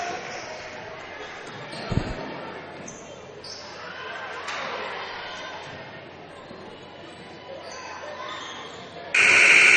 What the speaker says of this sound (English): Humphreys on the floor at the buzzer